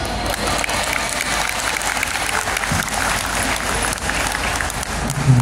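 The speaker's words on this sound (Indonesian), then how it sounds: "Kita kasih tepuk tangan sekali lagi untuk Safira Asadia." An audience claps for Safira Asadia at a TPN 2024 event in Jakarta, a steady, full round of applause that continues evenly throughout.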